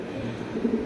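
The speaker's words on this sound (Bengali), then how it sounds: "3 ফুট গিয়ারের দামাসিন কবুতর" A Damascene pigeon gives a brief, low, soft coo, close by and alone, lasting under a second.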